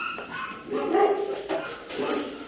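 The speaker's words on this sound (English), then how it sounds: "We have dogs barking over there." Several dogs bark repeatedly at a distance, with sharp barks and yips over a quiet outdoor background, with no speech over them.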